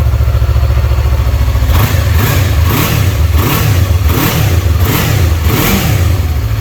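A 2016 Yamaha YZF-R3 sportbike engine idles steadily, then revs in a series of rising and falling blips, loud and close, with no voices.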